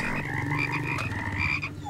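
Frogs in the game Laika croak loudly and continuously in a dense, overlapping chorus, close by and alone without talk.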